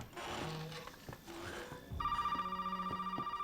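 A telephone rings in Resident Evil 7, an electronic trilling ring that starts partway through and repeats in rapid pulses, heard after some quieter game sounds.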